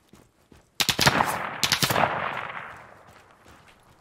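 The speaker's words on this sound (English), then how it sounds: "I have no idea where we were just getting shot at from, but somebody had a machine gun." Bursts of automatic machine gun fire in the tactical shooter game Ground Branch, loud and close, several rapid volleys that fade into a lingering echoing tail.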